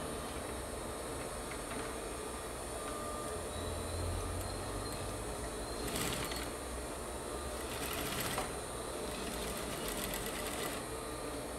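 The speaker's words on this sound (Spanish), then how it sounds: "Vamos a coser por toda esta parte que vemos acá. Vamos a hacerle la costura." A sewing machine stitches fabric for a face mask in a steady, fast mechanical whir that runs without a break, with a couple of brief louder bursts along the way.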